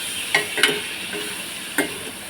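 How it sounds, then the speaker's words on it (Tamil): Tomatoes sautéing in a pan give a steady, close hiss of sizzling, broken by a few sharp spoon clicks and scrapes against the pan, with no voices. "கொஞ்சம் வதங்கினோன்னே தக்காளி போட்டுக்கலாம் அதே கொஞ்சம் நேரம் வதக்கலாம்"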